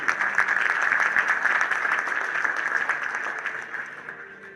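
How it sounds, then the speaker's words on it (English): An audience gives a round of applause at a corporate talk by Chicago Blackhawks CEO John McDonough, a dense, steady clapping that holds for several seconds and then gradually thins and fades. "So please, a rapturous welcome and round of applause for John and his video."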